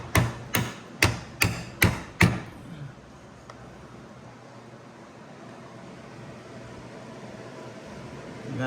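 A rubber mallet taps a part onto a Porsche Panamera high-pressure fuel pump with six sharp, evenly spaced knocks close by, each ringing briefly, followed by several seconds of quiet room hiss.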